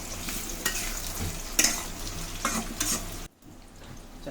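Potatoes with chopped garlic fry in a pan, a loud close sizzle broken by several sharp scrapes and clatters of stirring, then a brief drop to quieter frying near the end.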